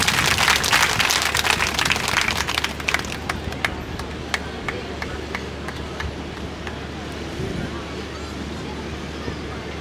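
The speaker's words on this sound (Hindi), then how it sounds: "एक बार फिर जोरदार तालियां बजा दो अमन भाई के लिए" Large outdoor crowd at a welcome ceremony for wrestler Aman Sehrawat in Birohar claps loudly, with dense applause strongest in the first few seconds, then thinning into a steady murmur of clapping and crowd noise.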